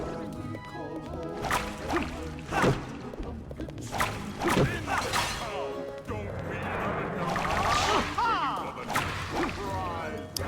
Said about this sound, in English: The fucking whip sound effects.